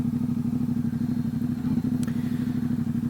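A 2019 Ducati Diavel 1260 S with a Termignoni exhaust on the road, its engine giving a steady, pulsing low drone at fairly even speed, close and continuous with no talk.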